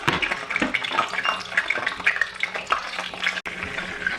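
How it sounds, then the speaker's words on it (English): Eggplants fry in hot oil for a Hyderabadi brinjal curry, giving a busy, steady crackling sizzle with sharp pops and spatters throughout, heard up close with no voices. "So the oil is now hot, so I will go ahead and add all of the eggplants."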